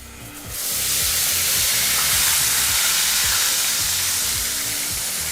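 Ground onion paste hits hot oil for fenugreek leaf thokku and bursts into a loud, continuous close sizzle that holds steady after the first half second, with faint low thumps underneath.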